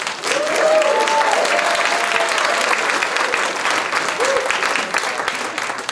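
A room full of people at a town hall meeting claps steadily for the whole stretch, dense applause with a brief voice rising faintly over it.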